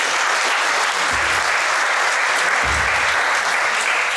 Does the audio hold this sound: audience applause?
yes